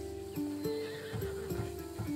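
A horse in the ancient-Greek game Assassin's Creed Odyssey, a Thessalonian breed, whinnies loudly and shakily in a continuous close call lasting about two seconds, with faint hoof clip-clop underneath and no talking.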